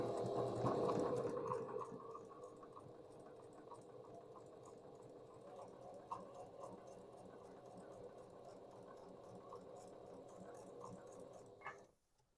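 A sewing machine stitches flour sack towel fabric with a steady, rapid mechanical whir and rhythmic needle clatter, louder at first, running continuously and stopping abruptly near the end.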